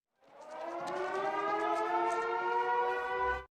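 A prison siren wails steadily with rich harmonic tones, sounding continuously for a few seconds before cutting off abruptly.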